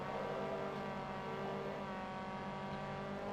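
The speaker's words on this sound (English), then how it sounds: "You're just revving the shit out of your engine." Race car engine in Forza Motorsport 2 held at high revs, a steady, sustained droning whine without breaks, fairly faint and alone with no talk.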